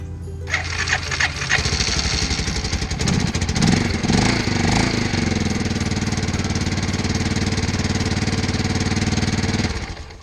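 An army Harley motorcycle engine starting up after choke and gas are set, a loud close rumble that catches within a second and keeps running roughly and steadily for about ten seconds.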